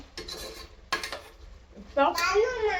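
A utensil scrapes and clanks against a metal pot in short bursts while cooking chicken biryani, followed by sizzling and a voice speaking.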